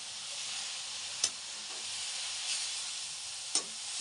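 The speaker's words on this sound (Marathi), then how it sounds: "शेंगदाण्याचं कूट टाकलं. मस्तपैकी परतून घ्यायचं." Chickpea greens with crushed peanuts stir-fried in a pan, a steady bright sizzle and hiss with a couple of sharp spatula knocks against the pan.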